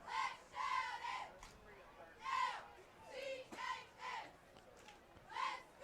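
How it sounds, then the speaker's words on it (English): High school football cheerleaders chanting in unison at a night game, several rhythmic shouted bursts with short gaps, moderately distant and echoing over open ground. "Cheerleaders making some noise tonight, trying to get the crowd into it."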